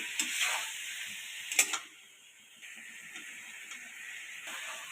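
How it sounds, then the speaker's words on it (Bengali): Potatoes and fried ridge gourd sauté with spices in a pan, giving a soft, steady sizzle with a few light spatula scrapes and clinks near the start, fairly faint and close. "কিছু সময় কষিয়ে নেব আলুটা সবজি মশলার সাথে এবার ভেজে রাখা ঝিঙেগুলো দিয়ে দিলাম"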